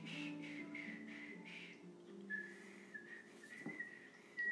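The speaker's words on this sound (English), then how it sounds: "That's about as well as I can whistle." A person whistles a short tune alone, a string of clear sustained notes moving up and down, moderately close, with faint room noise and no talking.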